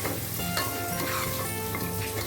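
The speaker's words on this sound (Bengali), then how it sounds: "হলুদ গুঁড়ো দিলাম দিয়ে একটু নাড়াচাড়া করবো" Tomato and turmeric powder sizzle loudly in a frying pan while a spoon stirs them, scraping and clinking against the metal amid the steady close hiss of frying for a vegetable soya pulao.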